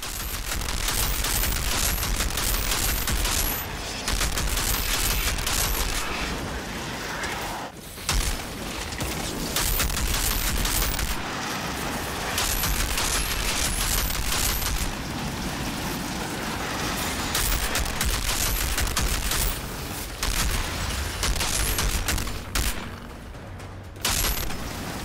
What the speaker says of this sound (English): Oh, mortar.